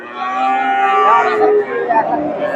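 A Friesian cow at a cattle market in Bogura gives a long, loud, close moo that wavers in pitch, with faint crowd chatter underneath.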